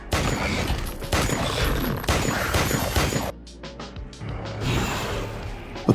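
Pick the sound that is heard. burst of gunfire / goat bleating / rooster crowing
burst of gunfire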